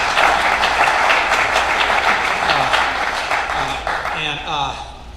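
A crowd applauds at a Tea Party post-primary election forum, loud sustained clapping filling the room, with voices and a few cheers mixed in as it gradually tapers.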